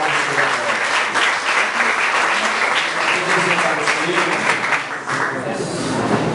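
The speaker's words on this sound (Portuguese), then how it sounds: "Aplauda ao Senhor nessa noite." Congregation applauding in a church service at IEAD Vila Augusto, a steady, dense wash of many hands clapping throughout, loud and close, with some voices mixed in beneath.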